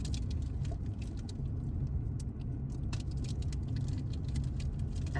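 A car drives along a road, giving a continuous low rumble of engine and tire noise with light rattles inside the cabin, steady throughout and without speech.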